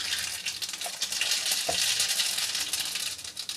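Mustard seeds sizzle and crackle in hot oil in a kadai as a dense, continuous frying hiss with scattered small pops, close and fairly loud throughout, with no voices.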